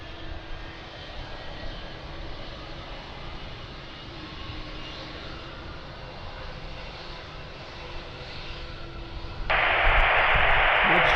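A British Airways airliner lines up on the runway at Lisbon Airport, a steady broadband engine roar held at a constant level, swelling sharply louder near the end as thrust builds.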